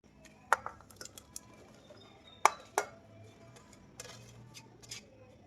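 Scattered clinks and clatters of vegetables going into a pressure cooker, a few sharp metallic knocks spaced irregularly over a quiet kitchen background.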